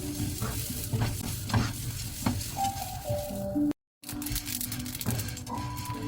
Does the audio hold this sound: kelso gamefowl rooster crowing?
no